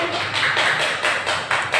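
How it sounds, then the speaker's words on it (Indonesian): A classroom audience applauds a student during a lesson, a steady patter of many hands clapping for about two seconds with no talking over it. "Beri tepuk tangan untuk Aziza"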